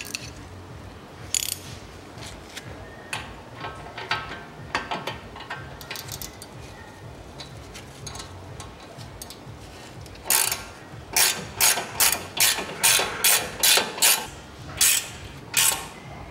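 Hex key turning a nut on the steering tie rod of a Land Rover Discovery 3, a close series of metallic ratcheting clicks that speeds into a steady rhythmic run of sharp ticks near the end.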